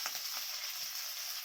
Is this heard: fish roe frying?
yes